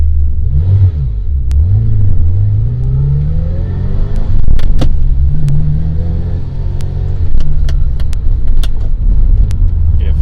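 Ferrari Mondial engine heard from inside while driving, loud close rumble rising and falling in pitch through gear changes, with a few small clicks and knocks from the cabin.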